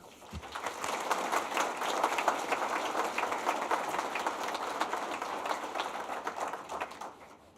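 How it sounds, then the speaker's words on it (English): Audience applause for recipients of the 44th Alumni Tribute Awards, a dense, steady roar of many hands clapping that swells early and holds before tapering off at the end. "please join me in a final round of applause once more for the recipients of the 44th"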